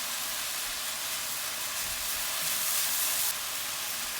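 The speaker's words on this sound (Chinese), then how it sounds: "放入土豆丝，大火翻炒" Shredded potatoes stir-fried in a wok over high heat give off a steady, loud sizzling hiss that runs almost unbroken, with no voices.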